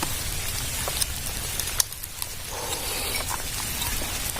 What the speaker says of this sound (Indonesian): Hujan semakin deras geng.